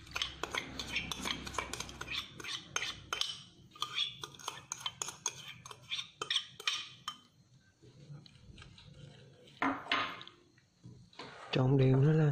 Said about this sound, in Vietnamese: Trộn đều nó lên.